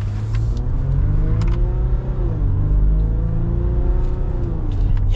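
A 2021 Ram 1500 EcoDiesel pickup accelerates steadily, its deep diesel drone loud and continuous with rising and falling harmonic tones as it pulls through gears.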